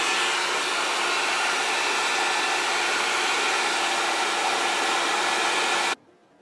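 A heat gun blows loudly and steadily to heat a guitar nut on a 2021 Gibson Les Paul Standard for removal, a close continuous hiss-roar that cuts off abruptly near the end.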